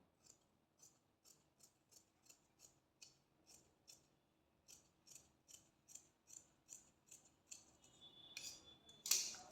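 Scissors cutting blouse fabric in a straight line, a quiet, regular series of crisp snips about twice a second, building to louder snips at the end.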